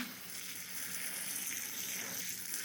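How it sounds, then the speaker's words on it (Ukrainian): Water poured over soil packed in a peat cup for cucumber seedlings, a steady soft trickling hiss running continuously and fairly quietly throughout with no talking. "Ми його поливаємо."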